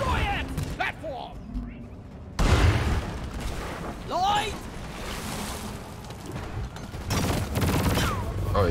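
A rapid-firing weapon in Deep Rock Galactic, loud bursts of fast shots that break off and resume, with booms and mechanical clatter mixed in and a voice talking between them.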